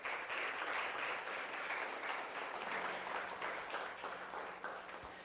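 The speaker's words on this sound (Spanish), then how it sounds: "Dele una ofrenda de palmas a Él." A church congregation claps in sustained applause during a Spanish-language sermon, a dense, steady wash of hands that holds for several seconds, then tapers slightly near the end.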